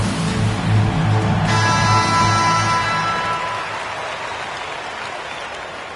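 Arena crowd in a basketball video game, Spurs leading, roars with cheering and applause during a timeout as the team's entertainers take the court, a loud steady wash of noise that eases slightly toward the end.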